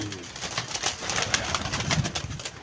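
Pigeons kept by a breeder coo in soft, low, repeated calls mixed with faint rustling and background bird noise, close and continuous without speech.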